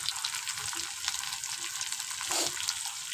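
Ginger, garlic and chopped tomato fry in hot oil with a dense, close sizzle and crackle, broken by a few brief stirring scrapes.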